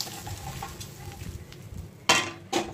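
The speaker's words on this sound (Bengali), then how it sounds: "এবার এর মধ্যে অ্যাড করে দেবো চিকেনটাকে সব শুধু।" Fried chicken goes into pulao broth in a pot, with faint bubbling and sizzling followed by two sharp clanks of utensils against the pot.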